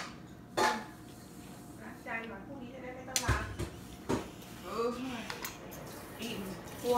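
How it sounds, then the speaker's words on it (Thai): Dishes, pots and cutlery clinking and clattering in a home kitchen sink during washing up, with intermittent knocks and scrapes mid-distance while people talk quietly nearby. "มาล้างจานเหรอ"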